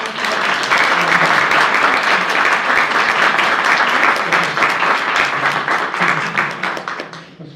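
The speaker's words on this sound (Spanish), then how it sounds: "vamos a dar un fuerte aplauso a Georgia" An audience at a political communication lecture gives loud, dense, sustained applause that holds steady for about seven seconds before tapering off at the end.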